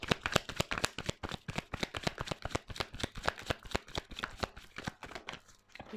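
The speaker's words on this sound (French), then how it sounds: "Je vais faire sauter les cartes." A deck of tarot cards is shuffled up close in a rapid, even run of crisp flicking riffles that carries on steadily for several seconds, with no talking.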